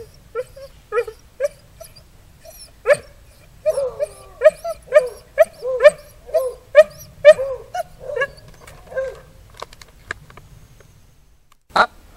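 Dog barking from a window in a steady run of sharp, fairly close barks, some with a whining edge, with a final bark after a pause.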